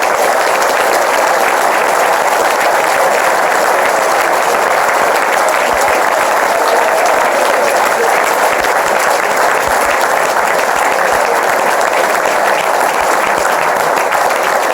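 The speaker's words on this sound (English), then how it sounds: "Let's give a big welcome to our final signing, Nemia Kenatali." A large crowd at a rugby club's season ticket holders event applauds a new player signing, with loud, dense, sustained clapping that holds steady from start to finish and no speech over it.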